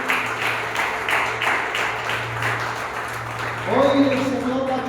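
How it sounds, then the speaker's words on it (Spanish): A church congregation claps in a steady rhythm, with a voice speaking over the clapping and a low sustained tone underneath. A brief musical phrase rises near the end. "Démosle el aplauso a él."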